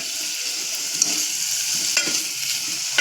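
Yam curry with turmeric and salt is stirred in a sizzling pan, a constant hiss broken by sharp spoon clicks against the pan about once a second, close and alone.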